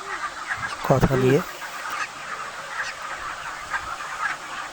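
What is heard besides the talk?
broiler chickens clucking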